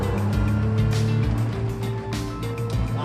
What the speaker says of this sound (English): just the noise now of the engine